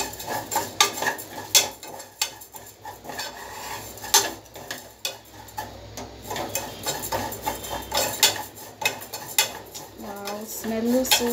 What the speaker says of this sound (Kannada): ತುಪ್ಪದಲ್ಲಿ ಹುರಿದ್ರೆ ಶಾವಿಗೆ ಒಂದು ಅಗಳಿಗೆ ಇನ್ನೊಂದು ಹಗಳು ಅಂಟದೆ ಇರೋ ಥರ